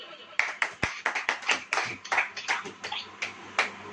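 A church congregation claps hands in a loose, uneven burst of sharp, close slaps, a dozen or so distinct claps over a few seconds with faint voices behind.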